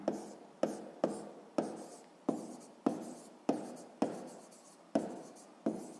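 Pen or pencil strokes on paper during a sixth-grade maths exercise, about ten distinct scratchy strokes at a regular, unhurried pace, each starting sharply and trailing off, close and fairly quiet, with no talking.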